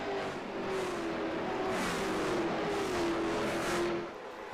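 Late model race cars drive at IRP Raceway in a sim racing game, a steady close engine drone with a gently falling pitch that fades near the end.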